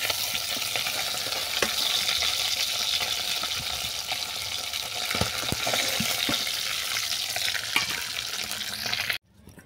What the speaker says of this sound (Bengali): এই তেলের মধ্যে আলুগুলোকে বাদামি করে ভেজে নিচ্ছি।